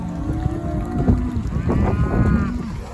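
A herd of cows being driven along a highway moos repeatedly, several overlapping long calls near and far, loud over a low rumble of wind and movement, with no talking.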